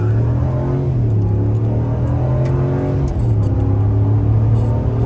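A 2021 Ram 1500 HEMI Big Horn quad cab pickup accelerates hard from a brake-torque launch, its V8 drone loud and continuous from inside the cab, pitch climbing steadily with a brief dip at a gear change.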